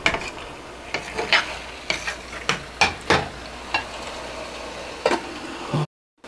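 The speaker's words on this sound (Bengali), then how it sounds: "এখন এটাকে ঢাকনা দিয়ে ঢেকে কষিয়ে নেব" Mutton for shahi rezala is sautéed in a pan, with a low sizzle and repeated scraping stirs knocking at an uneven rhythm before cutting off into silence.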